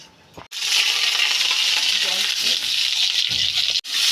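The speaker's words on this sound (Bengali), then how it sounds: "তেল দিয়ে দিয়েছি এবার শুকনো লঙ্কা দিয়ে দিলাম একটা একটু পাঁচ ফোড়ন দিয়ে দিলাম" Dried red chillies and panch phoron hit hot oil for a raw banana curry, bursting into a loud, continuous sizzle after a brief quiet start, with a short cut near the end.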